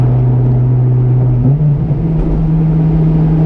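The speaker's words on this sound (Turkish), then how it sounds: "çok güzel vites geçişleri yani maşallah" A Honda S2000 drives along with a loud, steady engine drone that dips briefly mid-way as a gear change goes through, then settles at a slightly higher pitch, with no talking.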